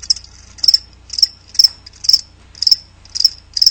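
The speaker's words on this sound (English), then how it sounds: "That's right, crickets." Crickets chirp in a radio advert, giving short, bright trills at a steady rhythm of about two per second, moderately loud and alone against quiet background.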